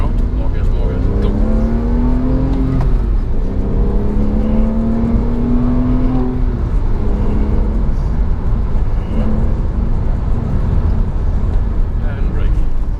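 A Porsche 911 (997) Carrera with a six-speed manual accelerates at full throttle, its engine tone climbing steadily through the gears. The engine is loud and close, with an interior drone underneath.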